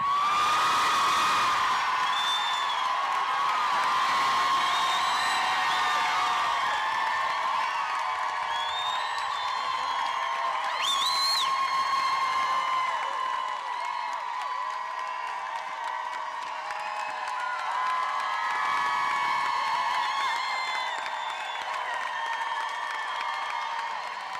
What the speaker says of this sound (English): I want all the ladies in the crowd to cheer their lungs out